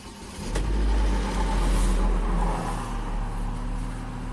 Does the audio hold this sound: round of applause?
no